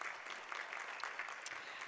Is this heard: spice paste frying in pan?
no